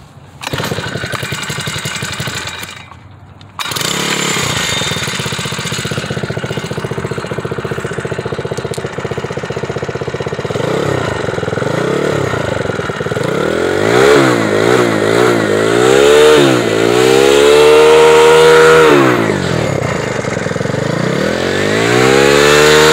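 Small 53cc four-stroke engine with the baffles removed and the chain off, revving hard and loud up close, sweeping up and down through repeated throttle blips after a short quiet start.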